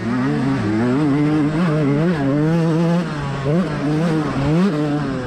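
An off-road racing motorcycle at a GNCC race at Burr Oak roars past close by, its engine revving steadily with rising and falling pitch for several seconds.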